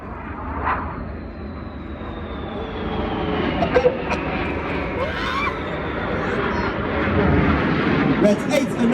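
RAF Red Arrows jets, including the synchro pair, roar through a display at the 2025 Blackpool Airshow: a steady, loud jet rush that swells and fades slightly over nine seconds, with a commentator talking over it.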